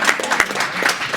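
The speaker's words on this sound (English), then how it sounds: "Let's give her a round of applause." Brief burst of audience applause for a guest co-host at a small business panel event, a crowd clapping steadily and fairly close for about a second.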